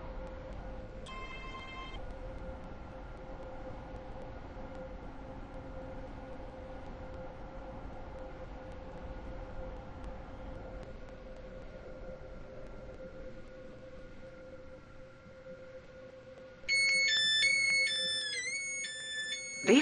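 A train pulling into the Airport Terminal 3 station gives a steady low electric hum and faint rumble that slowly fades, then an electronic chime of bright stepped tones rings out clearly near the end.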